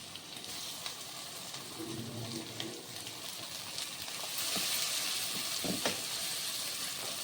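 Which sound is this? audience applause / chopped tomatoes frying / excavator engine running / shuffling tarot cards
chopped tomatoes frying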